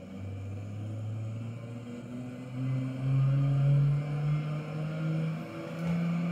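A car in a driving simulator pulls away and accelerates through the gears, a low steady engine drone that rises in pitch, drops at each shift and climbs again, close and continuous.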